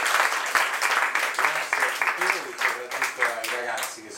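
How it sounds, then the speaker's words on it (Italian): An audience gives welcoming applause for a speaker at a book presentation, with crisp, scattered claps running throughout while a voice talks over them. "un applauso di benvenuto a Mauro Pinelli"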